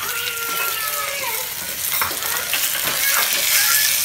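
Tuber pieces and tomato sizzle steadily in a hot pan for a Tamil village-style dried fish curry, with scraping stirring strokes throughout and the frying hiss rising slightly toward the end.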